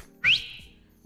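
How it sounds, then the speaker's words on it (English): A single short whistle from a person, rising quickly in pitch and then holding a bright tone that fades over about half a second, heard alone with no talk. "I can whistle."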